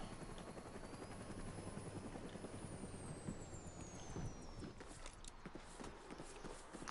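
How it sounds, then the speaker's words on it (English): A tac chopper helicopter in the video game Saints Row makes a steady, quiet rotor drone with low whooshing thumps and faint mechanical clatter, continuous and without talk. "I'll take the helicopter"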